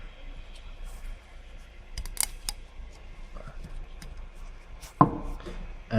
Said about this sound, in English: it's as simple as popping the new oil filter in